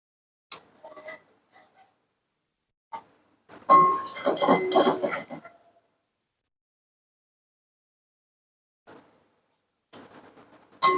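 Golden-brown fried onions for chicken dum biryani being spread across a metal tray, heard as scattered clinks and taps followed by a dense burst of scraping and rustling, then a few more sharp clinks near the end.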